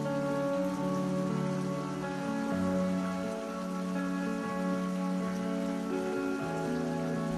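Heavy rain falling in southwestern Japan: a dense, steady wash of rain hitting surfaces that runs unbroken for several seconds, with a faint steady tonal hum underneath and no voices.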